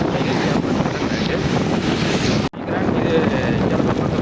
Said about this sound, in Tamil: புயல் மழை காற்று வீச தொடங்கிட்டு நினைக்கிறேன்